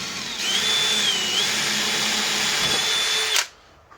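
A power drill with a 4mm bit whines at high speed for about three seconds, its pitch wavering slightly as it bores, then cuts off abruptly.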